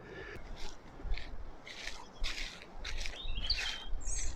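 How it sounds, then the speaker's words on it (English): Faint birds chirp and sing outdoors in short bursts in an old graveyard in Killarney on a summer's day, with light rustling or footsteps underneath. "And you can hear the birds singing again."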